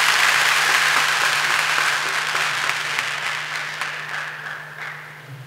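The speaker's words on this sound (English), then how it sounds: "Lewis Owen with a big round of applause" An audience at an international climate-change workshop applauds as a keynote professor takes the stage. Full, even clapping starts loud and gradually tapers off over a few seconds, with no talking.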